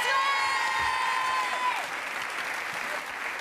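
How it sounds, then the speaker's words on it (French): A television studio audience on a Saturday night variety show breaks into loud, sustained applause, a dense wash of clapping with a fading sung or held tone over the start. "on peut l'applaudir très fort"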